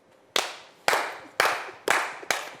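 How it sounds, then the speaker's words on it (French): Five sharp, separate hand claps ring out close by at a steady, slightly uneven pace, each one a crisp crack that fades quickly into quiet before the next. "Quand tu te lèves, tu applaudis."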